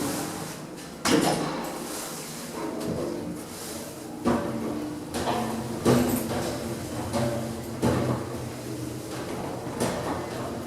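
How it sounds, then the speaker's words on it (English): Lift doors slide and close inside the Eastfields shopping centre, giving several rumbling sliding sweeps and soft thuds over a steady mechanical hum, with no voices. "Doors closing."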